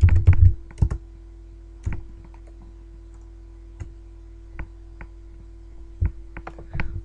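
Keystrokes on a computer keyboard entering a chat command in the game Transformice: a few sharp clicks at first, then scattered single taps and short bursts spaced across several seconds, close and clear over a steady low hum.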